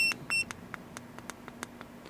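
An X13 handheld bug detector reacts to a nearby wireless router, giving two short electronic beeps followed by a quick series of fainter, evenly spaced chirps over a low hum.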